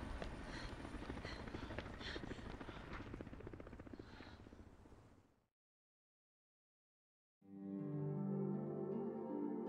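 Helicopter rotor noise from the video game Resident Evil 5, a loud, steady broadband whir for about five seconds that cuts to silence, followed by a different droning game sound.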